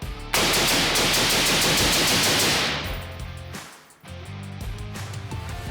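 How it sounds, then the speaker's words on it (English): Rapid 5.56 rifle fire through an Ambient Arms Exo556 Ti titanium suppressor, a fifteen-round mag dump as one fast, loud stream of shots that stops abruptly, leaving a fading echo. "let's go 15 rounds with the 556 Ti EXO"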